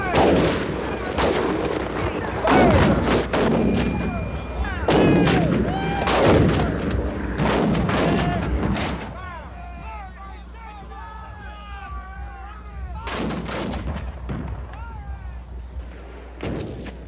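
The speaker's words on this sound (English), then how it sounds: "The Federals respond with an 80-gun cannonade." A Civil War artillery cannonade of massed cannon fire. Repeated loud, booming blasts come in clusters, with crackling debris sounds between the volleys.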